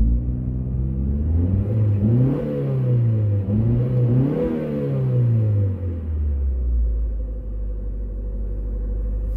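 A Honda Prelude V engine revs up and down repeatedly, a deep rumbling drone that climbs and falls in pitch several times before settling into a steady idle.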